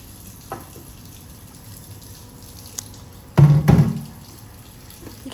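Water splashes in a short, close burst while a bird bath is rinsed clean of Dawn dish soap in a garden. A faint knock comes first, then the brief gush, and no one speaks.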